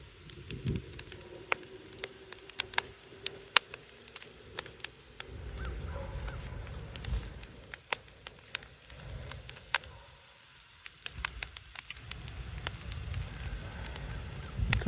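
An outdoor bonfire burns with sharp irregular crackles and pops over a steady low roar, all at close range. There is no talk, and wind sometimes rumbles across the microphone.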